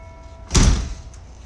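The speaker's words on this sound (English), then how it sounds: "We're gonna place it in the door, and we wanna place it as high as we can up in the door for this first exercise." A resistance band anchor being wedged into the top of a door gives one short, solid thump with a brief rattle of the door, heard up close with no talking.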